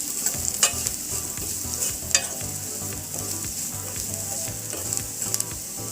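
A spiced onion kachuria filling made with turmeric, coriander powder, garam masala and boiled potato sizzles in a pan, with a spoon scraping and stirring through it in irregular strokes, close up and steady.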